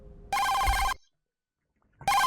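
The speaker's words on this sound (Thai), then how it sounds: "นี่ไงโทรศัพท์" A telephone rings loudly in bursts, one long electronic trill, a second of silence, then another ring starting.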